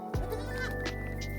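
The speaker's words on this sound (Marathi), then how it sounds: "एक शेळीचं पिलू आहे." A young goat kid gives a single wavering bleat, close and moderately loud, against steady background noise on a farm.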